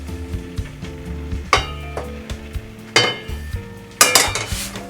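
Minced meat balls sizzling in an oiled frying pan, with steady frying crackle under repeated clinks and scrapes of utensils against the pan. Sharper clatters arrive at intervals, and music plays underneath.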